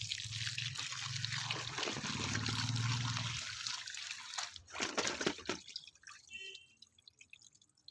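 Raw green mangoes are rinsed in water, with splashing, sloshing and dripping close by that thin out into scattered drips and trickles toward the end.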